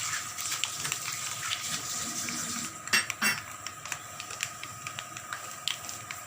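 A utensil scrapes and clinks against a pan while MTR puliyogare powder is stirred into fried poha, close repeated metallic taps with a brief louder clatter around the middle, no voices.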